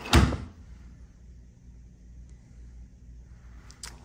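A hotel room safe door in a standard room at a Disneyland Resort hotel swings open with one sharp close-up clunk at the start, then near-silent room tone and a faint click at the end.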